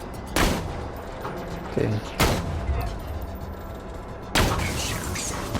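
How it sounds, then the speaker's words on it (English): Sniper rifle fire in the video game Borderlands 2, three loud, sharp shots spaced a couple of seconds apart with rumbling game ambience between and a brief spoken word. "this sniper rifle is like fire, yeah, see, it's pretty powerful"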